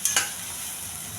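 Green pea tempering (batani talimpu) is stirred in a hot pan, with two quick scraping clinks at the start, then a steady, soft sizzle of frying on its own.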